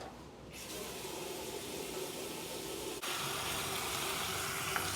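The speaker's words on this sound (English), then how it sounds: "The first thing you should do immediately is wash your hands." Hands are washed under a running tap, a steady, faint splashing hiss of water that continues without a break, with no voices.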